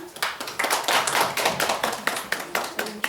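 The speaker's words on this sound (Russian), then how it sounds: "Будут аплодисменты" Steady applause from a small group, a quick patter of claps that keeps going throughout without any talking.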